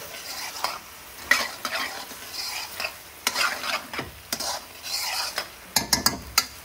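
Beef mince sizzles and fries in a hot pan after its liquid has simmered away, stirred in bursts with a utensil scraping and clattering against the metal.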